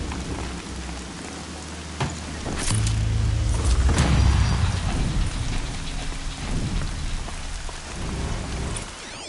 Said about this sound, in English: Land's thirsty for rain.